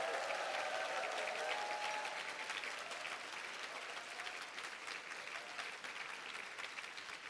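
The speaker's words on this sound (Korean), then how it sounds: "다음 세대에게 박수 한번." A church congregation at a mission prayer gathering applauds steadily for the full stretch, dense and sustained clapping that stays loud throughout with a faint crowd murmur underneath.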